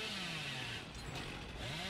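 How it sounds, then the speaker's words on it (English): Billy's chainsaw revs in the horror multiplayer game Dead by Daylight, a continuous buzzing engine drone with rising and falling pitch that fills the whole moment with no talking. "Forgot that I can't start this chainsaw at the right time."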